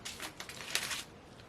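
Small plastic diamond-painting drills spilling, a faint rapid patter of tiny pieces clattering and skittering over about a second before trailing off into quiet, heard up close with no talking.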